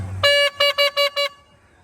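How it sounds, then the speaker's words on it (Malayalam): A vehicle horn sounds near a theyyam festival ground at Koleri Vayal in Kerala: one longer blast, then four short, evenly spaced honks, loud and close, with faint background noise after. "ആ അതാ ഹോൺ കേട്ടാ"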